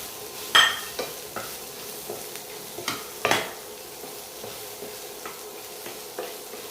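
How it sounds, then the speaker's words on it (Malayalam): Sausage stir-fries with onion and capsicum in a hot pan, sizzling steadily while a utensil scrapes and clacks against the pan in irregular strokes, close and clear, with no talking. "ഇനി സോസേജ് ഇട്ട് കൊടുക്കാം."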